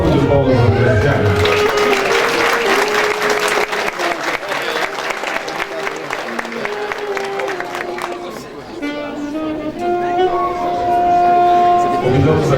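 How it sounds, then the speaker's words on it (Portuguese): Loud audience applause at an awards ceremony in Ouro Preto for honoree Graciano, dense clapping mixed with crowd noise, voices and musical tones, dipping briefly then swelling again. "Uma salva de palmas ao Graciano."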